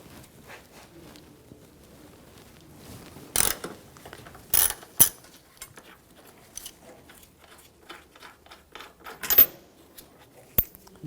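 Ratchet with an E14 socket loosening a bolt on a 2009-2013 BMW 328i xDrive 3.0L I6 intake manifold: scattered metallic clicks and clacks, several sharp louder knocks, close up, no talking.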